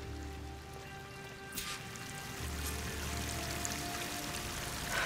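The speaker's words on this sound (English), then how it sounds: "That waterfall must be coming from somewhere." A waterfall in the video game Horizon Forbidden West pours in a continuous broad rush, soft and somewhat distant, swelling slightly toward the end under faint background game tones.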